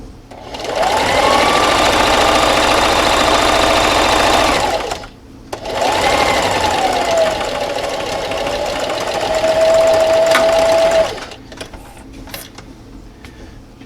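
A sewing machine running a straight stitch at 2.5 length on a fabric dust mask, loud and close, whirring in two long continuous bursts with a brief pause between, then falling quiet.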